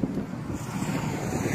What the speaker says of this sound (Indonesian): Anginnya segar sekali di sini.